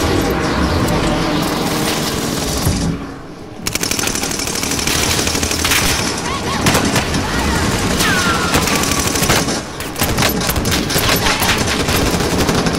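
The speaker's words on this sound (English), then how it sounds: "My controller was automatically shooting there" Rapid automatic gunfire from the Call of Duty: Modern Warfare video game in team deathmatch, with loud, sustained bursts of shots broken by a brief pause and a short gap near the end.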